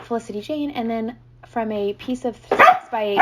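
A dog barks once or twice nearby, a sharp burst cutting in near the end while someone talks steadily through the clip over a low hum.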